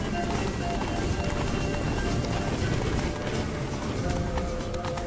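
A horse gallops in The Witcher 3 video game, its rapid hoofbeats running in a steady, loud rush close by, with wind-like noise over the whole stretch.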